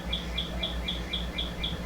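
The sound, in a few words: birds chirping in the morning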